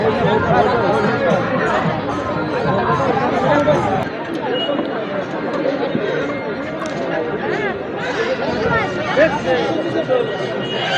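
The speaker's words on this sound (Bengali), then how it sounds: "প্রচুর ভিড় আর কি" Dense, steady crowd chatter at a busy village pigeon market in Lauhati, Delduar, Tangail, many overlapping voices close by with no pauses throughout.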